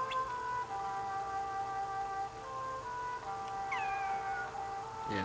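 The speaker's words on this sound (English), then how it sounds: "Cat." A cat meows in the video game Kingdom Hearts 2, a short, clear mew rising near the end over a steady bed of melodic game music, with no talking.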